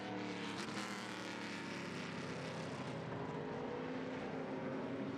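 ARCA Menards Series West stock cars roar down the front straightaway at Portland International Raceway, a loud sustained engine drone with a rising pass-by swell early on, heard alone without talk.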